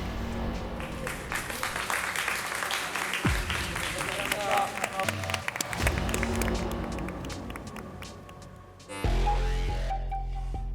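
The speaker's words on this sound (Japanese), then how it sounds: "今一度大きな拍手をお送りください。" An audience applauds after a passionate team performance at an idol audition show's final stage, sustained clapping and some cheering under a host's talk, giving way to music near the end.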